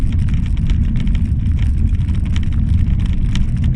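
Steady, loud rumbling road noise from a Citroën C3 driving over cobblestones at 30 km/h, a dense continuous low roar with faint rattling on top, no voices.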